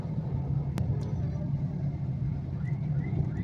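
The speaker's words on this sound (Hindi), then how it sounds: "बिंद्रा पुली पे इतना ट्रैफिक जाम है, इतनी ट्रैफिक रुकी हुई है" A steady low rumble of idling and slowly creeping vehicles stuck in a traffic jam on Bindra bridge, with a brief sharp click near the start.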